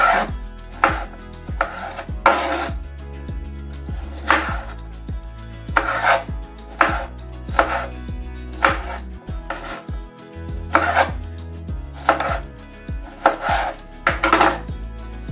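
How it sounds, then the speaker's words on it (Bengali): Tomatoes are chopped into small pieces for a homemade tomato sauce, the knife striking the board in a steady, close rhythm of sharp thuds over a continuous tonal background. "শুধু ছোট ছোট করে টুকরো করে কেটে নেব"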